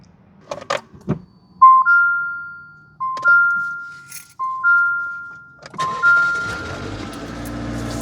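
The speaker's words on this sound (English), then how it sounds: "let's test if this car turns on" A 2022 Jeep Renegade powers up after a battery replacement: a few clicks and clunks, then a series of repeating electronic chimes, and finally a burst of engine noise as it starts.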